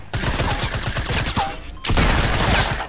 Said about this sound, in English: I killed him with an SMG.